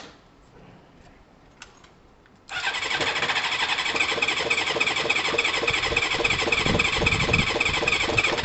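Kawasaki ZL600 cruiser motorcycle after final assembly, quiet at first, then the engine fires abruptly and settles into a loud, steady, close-up idle that continues to the end.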